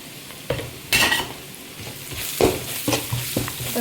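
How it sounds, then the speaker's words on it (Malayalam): Cooked yam with chilli powder being stirred in a hot pan, a soft sizzle broken by several loud scraping and stirring strokes at irregular intervals, close by and with no talk. "നന്നായി ഇളക്കി യോജിപ്പിക്കുക"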